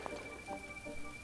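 Rain falls in The Legend of Zelda: Breath of the Wild, a faint, steady patter of in-game raindrops with no talk over it.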